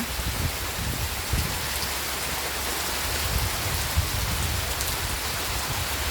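Heavy midday rain driven by wind pours down in a steady, dense hiss, close and continuous, with gusty low rumbling underneath and no voices.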